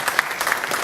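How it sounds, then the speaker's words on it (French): An audience at a French talk-show taping claps steadily and fairly loudly through the whole moment, with no voices standing out. "applaudissez-la, sincèrement, vraiment"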